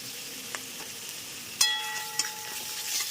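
Chopped chicken with onion, garlic, ginger and green chilli frying in refined oil, a steady close sizzle with a sharp burst and crackle as more goes into the hot pan partway through; no one speaks.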